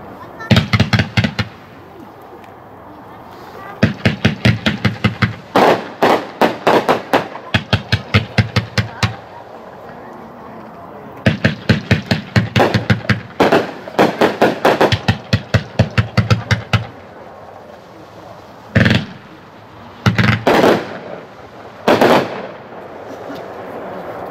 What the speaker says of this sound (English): This 30-shot, 350-gram cake is exclusive to Lewis Fireworks and Bullseye Fireworks.